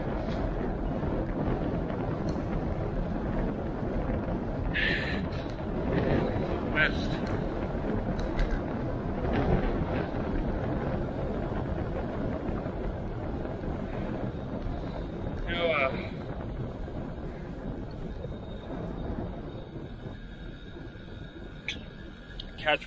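Wind buffets a handlebar-mounted DJI Osmo Action camera while cycling around Cambridge, producing a continuous loud low roar and rumble throughout, with someone talking intermittently under the noise.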